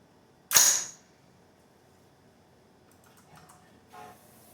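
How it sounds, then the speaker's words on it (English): The bolt of a fire-damaged PSA AR-15 rifle slams closed in one sharp, loud metallic snap near the start, followed by quiet, faint handling noises. "I have to close the bolt on it."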